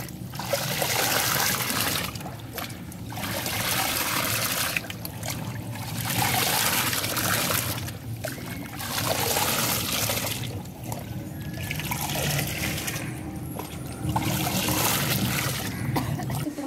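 Liquid splashes and trickles while being poured from above and mixed into homemade phenyl cleaner, coming in uneven bursts with brief pauses, close and moderately loud.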